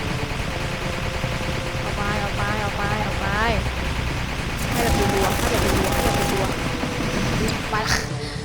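Rapid bursts of gunfire from the video game Garry's Mod crackle continuously, loud and dense, with game effects and a chopping rotor-like texture layered beneath.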